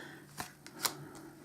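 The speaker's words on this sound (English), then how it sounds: "I'm just basically sorting cards into piles." Playing cards for a sealed deck being sorted into piles, with a few soft slaps and flicks as cards land on a table, close and quiet, spaced irregularly.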